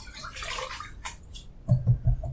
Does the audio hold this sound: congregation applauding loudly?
no